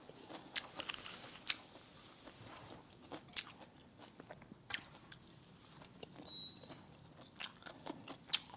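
Rice noodles, vegetables and meatloaf being chewed up close, with soft wet bites and crunches in an irregular rhythm, no talking.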